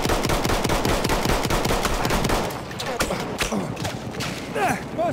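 Rapid machine-gun and rifle fire from a Conquest battle at Fort de Vaux in Battlefield 1, a dense rattling burst that thins into scattered nearby shots with distant battlefield noise.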